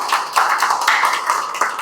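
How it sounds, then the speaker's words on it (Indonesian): Small group applauding in a soft-skills training class, brisk close claps with a few stronger bursts, no talk. "Yuk, tepuk tangan buat kita ya."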